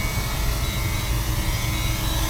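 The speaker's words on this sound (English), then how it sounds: "Then the drone lands by itself." A DJI Mini 2 drone setting itself down: a steady, close whirring propeller buzz holds evenly for a couple of seconds with no talk over it.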